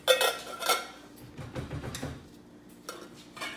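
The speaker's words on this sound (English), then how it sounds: "You want to place frying pan on the bottom" Metal pots and frying pans clatter and scrape as they are set into a kitchen drawer, with a few sharp clinks followed by softer rummaging and bumps, close by.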